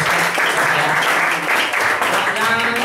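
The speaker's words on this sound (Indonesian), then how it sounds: "tepuk tangan untuk dosen" Students applauding their lecturer at the close of a question session, a loud, dense burst of clapping that carries on evenly, with faint voices mixed underneath.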